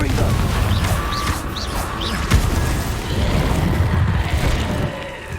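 A Confringo blasting spell goes off in Hogwarts Legacy, a brief boom amid busy battle noise and rumble, with voices in the background.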